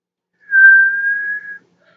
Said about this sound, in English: I was like whistling.